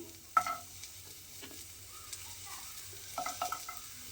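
Thinly sliced onion dropped into hot oil and stirred, with a sharp clatter at the start, then soft sizzling and occasional scraping and stirring knocks in the pan.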